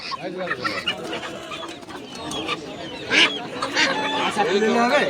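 Native chickens cluck and squawk at a busy village poultry market in Purba Bardhaman, close and irregular, with a few louder calls and bird chatter under the crowd's background noise.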